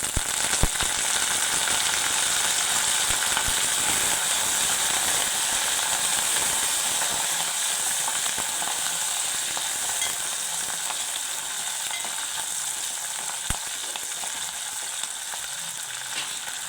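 Dry red chilies and curry leaves crackle in hot oil in a pan for a spicy mutton fry, giving a constant bright sizzle with occasional sharp pops and light stirring, with no talking.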